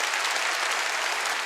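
Congregation at a Wednesday church service clapping together, a uniform, sustained patter of many hands at even, moderate loudness with no pauses.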